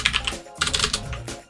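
Rapid clicking on a computer keyboard, a short run of keystrokes ending in a press of the enter key, close and clear with no voices.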